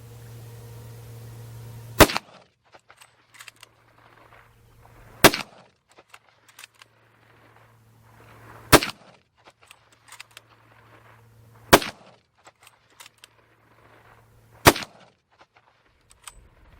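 .375 H&H safari rifle fired outdoors at white targets 75 yards away: five loud, sharp shots spaced about three seconds apart, each a sudden crack with a short echo, a faint background hum between them.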